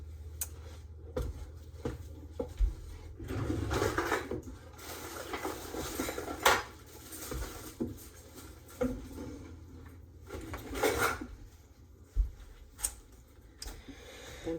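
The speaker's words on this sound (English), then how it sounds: "Let's get the lids on the ones that we have" Lids going onto glass jars of pear relish in a kitchen: scattered clinks, taps and light metallic clatter, some in quick bursts, others spaced apart, with no talk.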